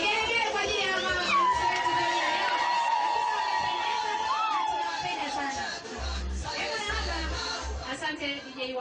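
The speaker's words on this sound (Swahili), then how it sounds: "Vigelegele kwa ajili ya mama." Celebratory vigelegele ululation rises for a mother at a festive family gathering. The long, wavering high trills carry over a lively crowd, with chatter and shouts around them.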